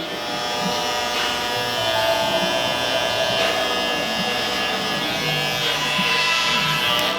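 A steady, close electric buzz from a hair trimmer during a skin fade haircut runs the whole time, loud and unbroken with no voices.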